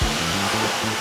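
A rotary polisher fitted with a 3M foam pad and polish runs at a steady, close whirring drone with a faintly wavering pitch, continuous and alone for the whole moment.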